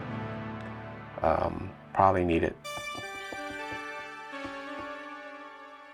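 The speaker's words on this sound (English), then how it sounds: "The next part is just that synth melody." After a few spoken words, a bright synth on an MPC Live 3 using a retro preset plays a short stepping melody of clear, bell-like notes with a sustained tone underneath.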